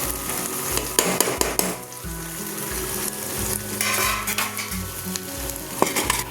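Tomatoes frying in hot oil for a brinjal curry give a steady loud sizzle, with repeated scraping stir strokes and a few light utensil clinks against the pan, close up, no talking.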